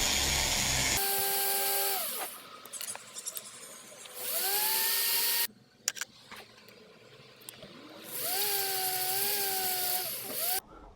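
High-pitched whine of a rotary tool polishing a soldered ring, running in several bursts of a few seconds with pitch shifts as pressure changes, separated by quieter gaps with small clicks and handling noise.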